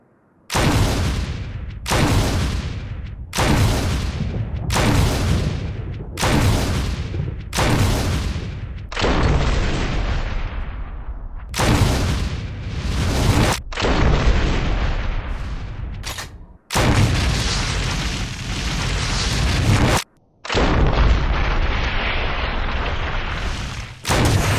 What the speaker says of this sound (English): now let's go ahead and test the grenade launcher out